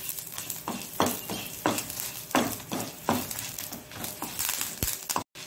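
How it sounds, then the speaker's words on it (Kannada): Curry leaves frying and being stirred in a hot pan for a Mangalore-style sambar masala, a steady sizzle broken by repeated scraping strokes of a spoon, close and fairly loud with no talking. "ಸ್ವಲ್ಪ ಫ್ರೈ ಆಗುವಾಗ ಸ್ವಲ್ಪ ಕರಿಬೇವಿನ ಸೊಪ್ಪನ್ನು ಹಾಕೊಳ್ಳೋಣ"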